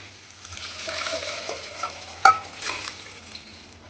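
Mutton sizzles softly in a pan with softened tomatoes while a utensil stirs and scrapes, with one sharper clink of metal partway through.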